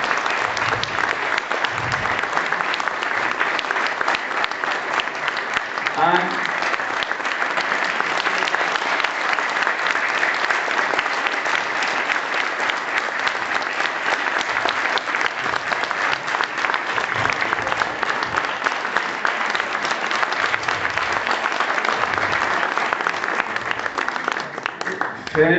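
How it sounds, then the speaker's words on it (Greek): A reunion crowd of graduates from the class of 1964 gives a former teacher long, sustained applause, a thick, steady roar of clapping over which voices can be heard talking. "Ένα πολύ μεγάλο χειροκρότημα."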